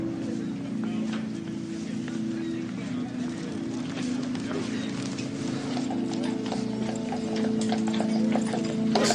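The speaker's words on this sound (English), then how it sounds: "Listen to the horses." Horses clip-clopping along a street on Mackinac Island, steady hoof beats with a rolling carriage rattle throughout, moderately near, with voices talking over them.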